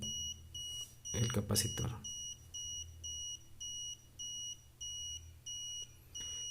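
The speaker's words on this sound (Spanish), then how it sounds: "Entonces puede ser una alarma audible, visible" A 555 timer astable circuit drives a buzzer that gives regular, evenly spaced electronic beeps at moderate level, while someone speaks Spanish at the start.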